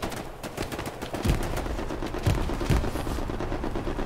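Machine gun fire from a hill in the video game Hell Let Loose comes in rapid, dense bursts that rattle steadily at mid distance through the whole stretch.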